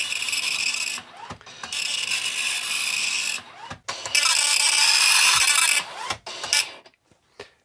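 A Commodore MPS-801 dot matrix printer prints with loud, harsh rasping buzz as the print head moves one way, in long passes broken by brief gaps and mechanical clunks.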